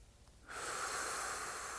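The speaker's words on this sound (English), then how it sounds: "You're going to breathe." A single deep breath drawn in close to the microphone: a soft, steady rush of air begins after a brief hush and continues evenly to the end, with no talking.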